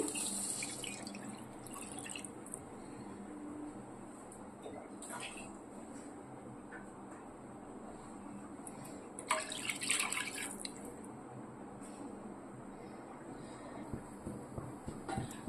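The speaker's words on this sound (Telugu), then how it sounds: "ఒక కప్పు సేమియాకి రెండు కప్పులు వాటర్ పోస్తున్నానండి" Water is poured steadily into a pan while making semiya kesari, a sweet vermicelli dish, giving a faint, continuous splashing stream with a brief louder surge partway through.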